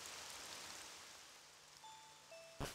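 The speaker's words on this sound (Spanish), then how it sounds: "está lloviendo" Steady rain falls in the Pokémon Nightmare Prophecy video game, a soft, continuous hiss of drops that holds throughout, with faint tonal chimes near the end and a brief sharp burst just before it stops.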